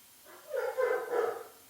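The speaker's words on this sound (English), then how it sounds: "my dog's going to flip out" A dog barks at a delivery person indoors: a short burst of two or three muffled, mid-pitched barks running together, close by and moderately loud with no voices.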